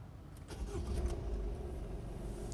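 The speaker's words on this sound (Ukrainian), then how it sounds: "Так, зараз заведемо. Слухайте, як заводиться." A 2015 Honda CR-V 1.6 diesel engine with automatic transmission cranks briefly and catches easily, settling into a low, steady idle rumble close by.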